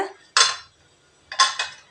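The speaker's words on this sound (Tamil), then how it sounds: "அதுக்கு ஒரு பாத்திரம் வச்சுருக்கிறேங்க." A cooking pot set down on a home stove while making potato and green pea masala gives two separate metallic clanks, the second a quick double knock, close and clear with silence between.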